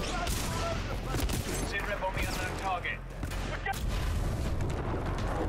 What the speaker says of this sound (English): Once again, I just accidentally shoot one of the maintenance bots.